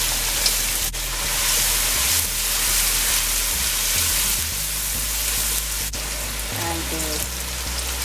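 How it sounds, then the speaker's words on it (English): Onions, red peppers and garlic fry in a pan with a loud, continuous sizzle and a few stirring clicks, while a person speaks briefly over it. "The red peppers and the garlic. I'm gonna add the onion."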